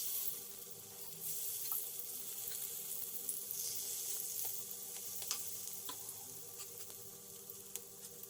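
Okra (ladies finger) frying in hot oil, Kerala style, gives a continuous soft sizzle and bubbling with occasional light clinks and stirring sounds, fairly quiet and steady, no talking.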